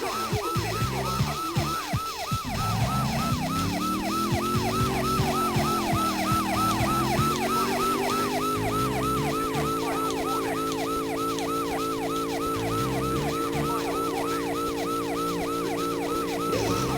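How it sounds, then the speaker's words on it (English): Fire truck sirens in the video game Driver 2 Advance wail continuously with a fast warbling electronic pattern over a rising engine drone, loud and steady throughout. "you can hear the fire truck sirens"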